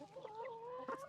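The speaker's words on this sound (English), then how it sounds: "This is definitely a rooster." A rooster on a farm gives a short, faint clucking call with a wavering tone, heard alone and briefly.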